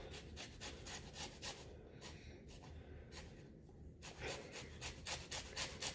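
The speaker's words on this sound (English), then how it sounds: "I'm gonna go ahead and grate this for lemon zest." A lemon rubbed against a basic kitchen grater for zest, giving a steady run of close, rhythmic rasping strokes that scrape on without pause.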